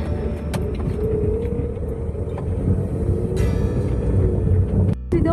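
A car idles with a steady low rumble, engine running close by throughout, then a brief click and thump near the end.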